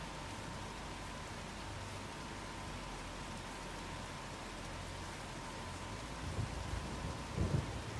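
Steady rain pours down in an Iowa farming video game, a constant soft hiss of falling drops with low rumbling thunder rolling underneath and swelling briefly near the end, fairly quiet overall with no talking.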